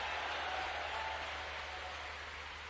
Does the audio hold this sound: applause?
yes